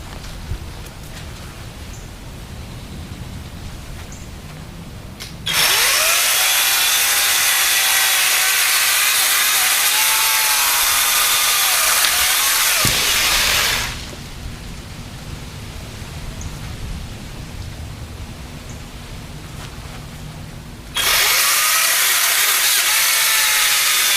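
An EGO PSA1000 10-inch cordless pole saw cutting through wood outdoors, two loud sustained bursts of buzzing chain cutting separated by a quieter pause with the motor winding down.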